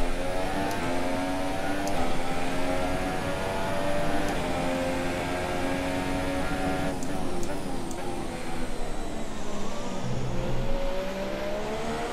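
A racing car with a Honda engine in a racing video game drones continuously with high revving engine tones and gear shifts, while commentators talk over it.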